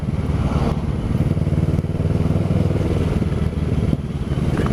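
A Kawasaki Z650 motorcycle fitted with a Black Widow exhaust runs nearby, its loud, throbbing engine note steady and pulsing with no talking.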